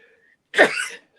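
A single short, breathy sneeze from a person in a quiet podcast room, sharp onset then a brief fading exhale, alone with no talk over it.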